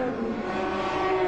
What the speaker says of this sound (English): Lovely noise the BMW makes.